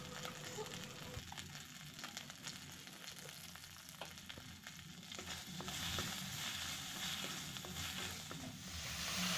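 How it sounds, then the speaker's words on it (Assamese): Ground ginger, garlic and cumin paste frying in hot oil, a continuous close sizzle with faint crackles that swells slightly louder partway through. "তেল গৰম হ'বলৈ দি তাতে মই আদা নহৰু আৰু জিৰা গুড়ি যিখিনি পিচি লৈছিলোঁ সেইখিনি দি লৈছোঁ। ভালদৰে ভাজি হোৱাত"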